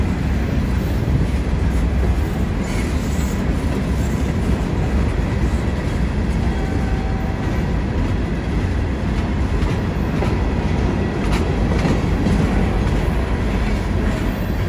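A Florida East Coast Railway freight train, including four chemical tank cars from Allied Chemical, rolls past steadily with a continuous broadband rumble and faint clickety-clack of wheels, close and loud for the whole stretch.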